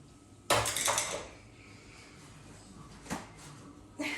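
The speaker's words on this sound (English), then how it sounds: "I'm going to put these in my little wash basket" Cosmetic-making utensils from a body butter batch are set into a small wash basket, giving a cluster of bright clinks and clatters near the start, then a single sharp clink and a final rattle against a quiet room.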